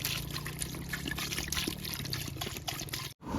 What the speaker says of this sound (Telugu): ఈ 5 కిలోల మటన్ లా ఒక 2 లీటర్ల నీళ్లు పోసుకొని ఉడికించుకుందాం.